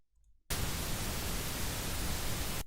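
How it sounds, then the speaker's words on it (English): Broadband generated noise, pink to white in colour, switches on abruptly after a brief quiet start and holds as a steady, even hiss with no voices before cutting off at the end. "Let's add a bit of noise just for some texture"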